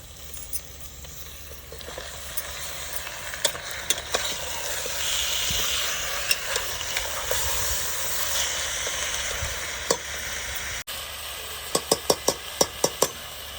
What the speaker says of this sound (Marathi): आपण आता स्वच्छ धुवून ठेवलेलं मटण टाकून घ्यायचं आहे कुकरमध्ये